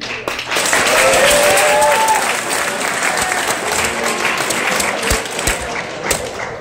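Loud audience applause for a contestant named Richard Kim at a 2015 Halloween costume contest at Gilman, a dense sustained burst of clapping with a few thumps and shouts, swelling early and then tapering off.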